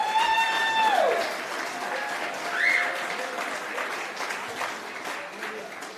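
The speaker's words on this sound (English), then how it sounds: "Yeah, clap that up first," An audience at a Malcolm X commemoration claps before a West African dance performance, a broad, moderate patter of applause with a faint whistle or tone near the start, gradually thinning.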